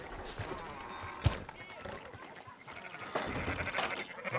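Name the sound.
sheep bleating in Red Dead Redemption 2 video game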